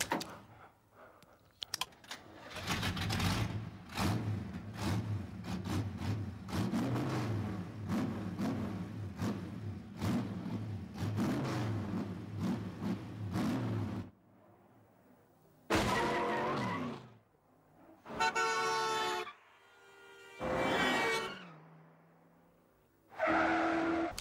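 A 1971 Chrysler Charger or Oldsmobile NASCAR stock car roars through a long run of rising, falling revs during a chase, then fires off several short, sharp engine bursts separated by silence.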